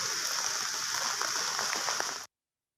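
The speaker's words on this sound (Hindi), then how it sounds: "लाहौर के मुख्तलिफ इलाकों में हल्की बारिश का सिलसिला जारी है।" Light rain falls across Lahore as a steady, even hiss with scattered drips, then cuts off abruptly to silence.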